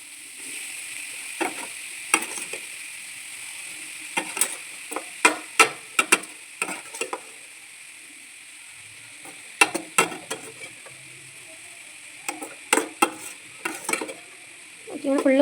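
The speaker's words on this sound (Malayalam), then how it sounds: "ഇങ്ങനെ ഫുള്ള് ഗോബി ഇട്ടിട്ട് നമ്മൾ നന്നായിട്ട് ഇളക്കിക്കൊണ്ടേയിരിക്കണം" Cauliflower pieces fry in a pan of hot oil with a soft steady sizzle, punctuated by repeated sharp clinks and scrapes of a spoon stirring, in irregular bursts close by with no talk.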